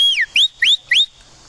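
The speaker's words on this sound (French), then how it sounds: "Et un sifflet de secours, de détresse quand on va dans la nature." Three sharp, loud emergency distress whistle blasts, each a high bright chirp with a quick pitch sweep, following a longer opening tone, close and alone.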